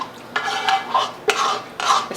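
A utensil stirs a taco rice casserole mixture in a pan, giving several separate scraping, clinking strokes with short pauses between them, close and clear, with no talk.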